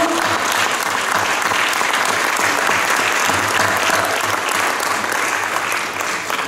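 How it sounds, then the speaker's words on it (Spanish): An audience at a religious talk about the Catholic sacrament gives loud, continuous applause, a thick, steady roar of many hands clapping throughout. "Démosle un aplauso a ese bendito sacramento."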